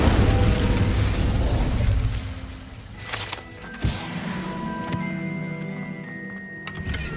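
A fire spell cast in Hogwarts Legacy, a loud whooshing burst that fills the first two seconds and then falls away into softer mechanical clicks and a brief pop.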